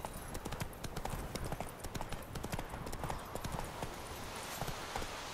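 Roach, the horse from the video game The Witcher 3, gallops with rapid, even clip-clop hoofbeats that stay close and continuous throughout.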